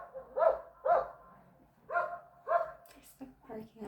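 A dog barks in two pairs of sharp, close barks separated by a pause, followed by some quieter voice-like sounds.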